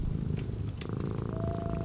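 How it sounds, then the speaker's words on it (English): Cat purring from the Relax Melodies sleep-sound app, a steady close rumble that continues evenly throughout with no talking. "And then I knew that she liked wolf and cat purring."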